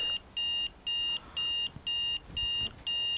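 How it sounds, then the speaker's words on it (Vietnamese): A phone alarm beeps in a steady repeating pattern of short electronic bursts with brief gaps, moderately loud indoors, without talking. "Cái điện thoại đó mình để báo thức ren sùm chịu gì nổi."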